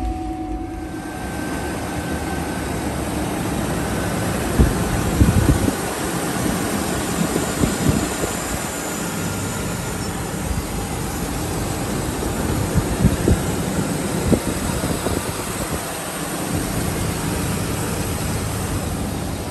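A 2008 Hummer H3 engine idles, a steady loud rumble with a constant hum, a few intermittent clicks and knocks riding over it, heard up close without any talking.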